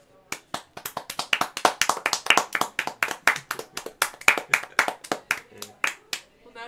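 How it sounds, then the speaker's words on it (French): Neighbours clap and applaud in a steady, rhythmic run of sharp, distinct hand claps that lasts several seconds, with no talking. "On a applaudi les voisins parce qu'ils nous ont applaudi."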